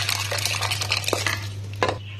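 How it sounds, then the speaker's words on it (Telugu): Cooked dal is scooped into a bowl with a metal utensil, giving soft scraping and light clinks against the vessel over a steady low hum. "ఈ పప్పుని గిన్నెలోకి షిఫ్ట్ చేసుకుందాం"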